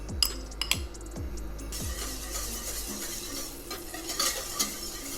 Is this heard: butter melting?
yes